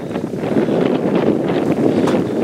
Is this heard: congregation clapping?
no